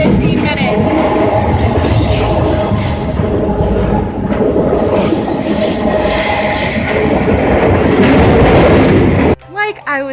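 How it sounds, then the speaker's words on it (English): A train rolls past on nearby railway tracks with a steady, loud rumble, clickety-clack and some wheel squeal for several seconds. The noise cuts off abruptly and a voice follows. "There's a train!"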